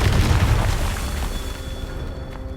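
A Confringo spell explosion in Hogwarts Legacy bursts as a loud, deep boom that rolls into a sustained rumble and slowly fades, with no talking over it.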